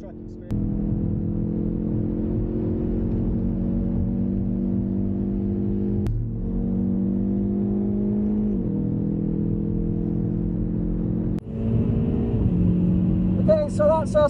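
A hot hatchback drives laps on the Nürburgring racetrack, its engine droning steadily from inside the cabin with pitch shifts as it changes gear, and a brief chime near the end.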